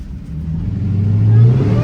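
A Dodge Charger Demon's engine revs hard and climbs steadily as its tires spin in snow during a burnout, a loud, close, droning roar that builds to a peak near the end.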